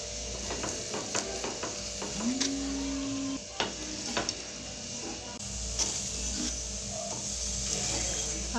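Aloo paratha sizzles in ghee on a hot pan, a steady frying crackle with scraping and clinking of a spatula, close and moderately loud, no talk.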